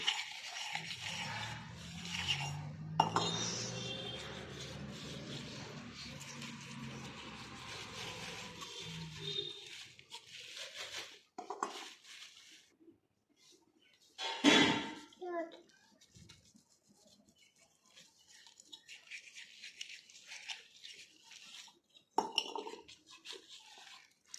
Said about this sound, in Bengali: নুন লেবু মাখানো গুটিগুলো এখন ভালোভাবে ধুয়ে নেব